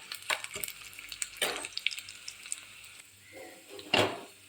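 Grated coconut and a dried red chilli fry in a pan for a pumpkin and lentil curry, with a steady soft sizzle broken by a few sharp scraping stirs of a spoon, close and without talk.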